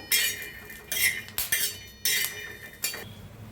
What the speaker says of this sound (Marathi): मिरच्या त्यातच टाकूया लसूण बी सगळ्याला मिक्स करून भाजूया छान असं